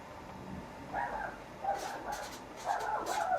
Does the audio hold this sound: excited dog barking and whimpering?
yes